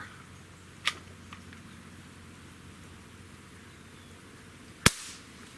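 A Beeman QB78S CO2 air rifle fires, giving a sharp, loud crack near the end, with a softer snap earlier, over a steady outdoor hiss.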